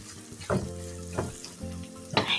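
Fish and eggplant mash being stirred in a frying pan makes a low sizzle, broken by three distinct scraping strokes of the spatula. There is no speech.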